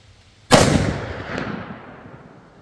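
A single sharp report from a .50 caliber muzzleloader firing a PowerBelt AeroLite bullet with IMR White Hots powder, loud and close, followed by a long, fading rumble and echo outdoors.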